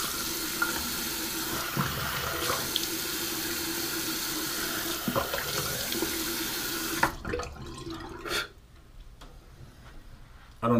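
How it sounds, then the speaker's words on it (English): A bathroom tap runs steadily for rinsing after a straight razor shave, water splashing close by with small knocks and taps, then it shuts off and near-silence remains until a final bump. "So I'm going to rinse off."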